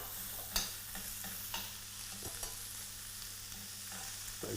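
A pork chop and vegetables cooking together in one pot give a soft, steady sizzle with a few light stirring knocks and scrapes, all fairly quiet and without talk.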